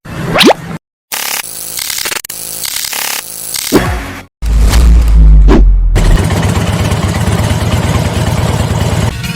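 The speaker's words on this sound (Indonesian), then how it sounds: "Mesin konvensional digunakan untuk praktek tunap" A conventional engine on a school workshop training stand runs for tune-up practice, idling loudly and steadily over the last few seconds after a series of short clicks, knocks and gaps; no voices.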